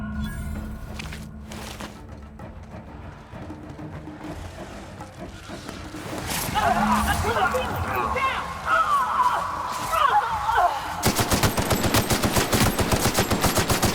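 Gunfire in the video game The Outer Worlds: after a stretch of spoken dialogue, rapid automatic bursts and shots break out loud and close, continuing to the end.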